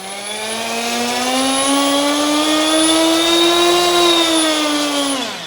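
An OMP Hobby M4 RC 3D helicopter motor spools up to speed, a steady high-pitched whine that rises slightly then holds, loud and close with no talking.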